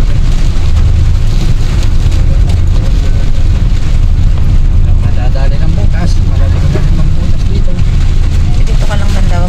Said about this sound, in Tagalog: Talagang bumosyo, malakas na ulan.